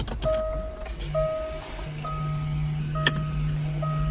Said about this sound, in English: that is the rear brake actuators moving and tightening up the slack in the system there